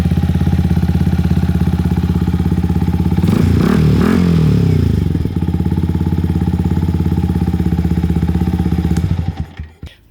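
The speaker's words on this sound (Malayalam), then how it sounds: "ഇനി DB വെച്ചിട്ടുള്ളൊരു സൗണ്ട് കേൾക്കാം." A Yamaha MT-15 fitted with an Akrapovic exhaust and dB killer idles loudly and close with a steady, throbbing burble, rises briefly in a short rev burst, then settles back to idle before cutting off.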